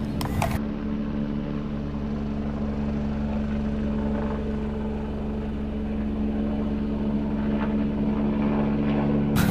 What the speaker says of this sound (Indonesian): berikutnya kita terbangkan lagi helikopternya ya teman-teman